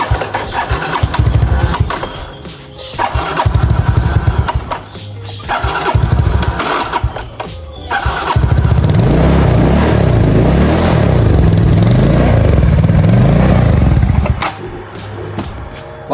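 A Honda Soul GT motorcycle with a bored-up engine, CBR throttle body and ECU cranks and catches repeatedly, sputtering in rough bursts before settling into a longer uneven running stretch that struggles at low revs, loud and close with no talk.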